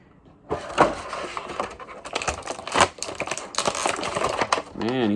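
Crinkly plastic blister packaging being pulled apart to free a Mattel WWE Elite Sandman wrestling figure, with bursts of crackling and tearing close to the mic, ending in a brief tonal sweep.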